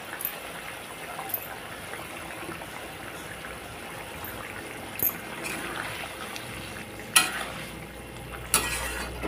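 Fried pointed gourd goes into a simmering Bengali curry, a soft continuous bubbling and sizzle close by, broken by a few brief sharp clinks and splashes near the end.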